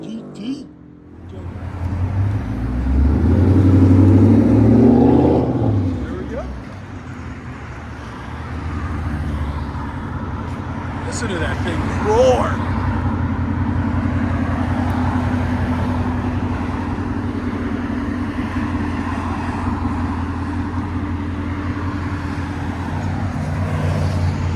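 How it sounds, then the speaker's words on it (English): A Ford Mustang GT with MagnaFlow MagnaPack true dual exhaust and an X-pipe revs up loudly close by, then settles into a deep, rumbling idle that runs on steadily. "But here's a Mustang. We did MAGNAFLOW MAGNAPACKs. True duals with X5."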